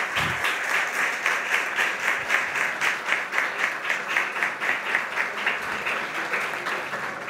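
Sustained applause from a crowd at a religious gathering honoring a Vaishnava swami, dense steady clapping with a faint rhythmic pulse running throughout, fairly loud and close, with no talking over it.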